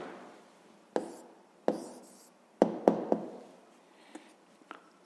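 Pen strokes on paper while an answer to a sixth-grade math problem is written down: a handful of sharp taps and short scratches, some closely bunched, fairly close and quiet, with no talking.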